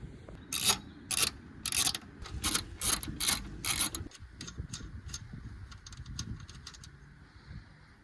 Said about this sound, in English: And for this job I will be using a 12mm socket.